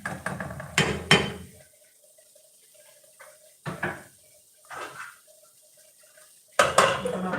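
Metal lid set down on a cooking pan of heating oil, a sharp clatter near the start followed by a few fainter clinks and knocks spaced through a quiet stretch, then a final loud clank close by.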